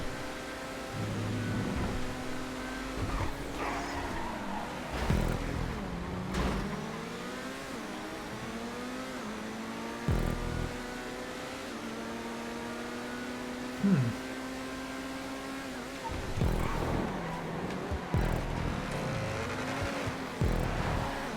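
An Itali GTB sports car racing on a track in GTA 5, its engine revving and then dropping into overrun with crackles, steady and fairly loud against a low hum.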